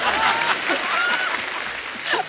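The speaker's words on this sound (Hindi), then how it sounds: "जोरदार तालियां हमारे गेस्ट के लिए" Strong, steady applause from a studio audience welcoming a guest on a Hindi comedy talk show, dense and close, with a few faint voices and laughs mixed in throughout.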